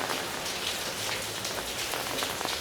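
Rain falls steadily in the old town of Omis, Croatia, a dense hiss of drops on hard surfaces with scattered louder patters. It is continuous and fairly close, and no voices are heard.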